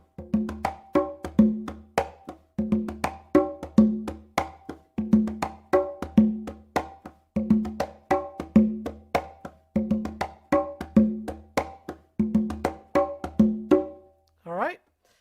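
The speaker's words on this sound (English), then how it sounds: "is the conga, which is a carnival dance" Cuban carnival conga dance rhythm played on percussion, a steady repeating pattern of sharp drum hits in regular bars, loud and close, ending with a brief rising tonal sweep.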